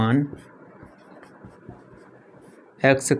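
A pen scratches out an equation during a Class 10 math lesson, with soft, irregular writing strokes heard close up and brief speech at the start and end.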